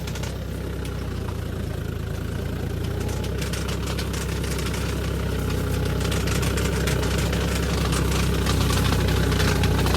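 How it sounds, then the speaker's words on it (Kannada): A tractor engine runs steadily in a crop field, a loud, continuous low rumble with a slight knocking texture that holds at an even level throughout, with no voices. "ಇವಾಗ ಟ್ರ್ಯಾಕ್ಟರ್ ಹೆಂಗೆ ವರ್ಕ್ ಮಾಡ್ಬೇಕಂತ ಅಂತ ತೋರಿಸ್ತೀನಿ"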